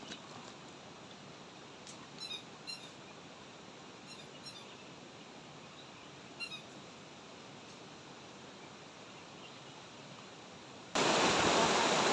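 Steady broadband rush of a waterfall at a forest campsite, constant and fairly loud throughout, with a few faint bird chirps above it and a sudden louder burst of noise near the end.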